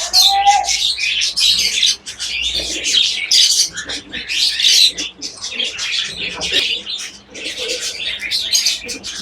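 Dense, continuous bird chatter fills the space: bright chirps and tweets in quick bursts over soft intermittent coos from white crested pigeons, close and fairly loud, with occasional wing flutters.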